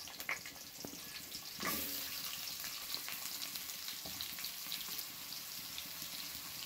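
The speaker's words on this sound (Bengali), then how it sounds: "তেল দিলাম কড়াইয়ে, আলু পটল ভেজে নেব।" Cut potatoes and pointed gourd hitting hot oil in a kadai, a sudden sizzle that settles into steady frying crackle, fairly faint with no talk.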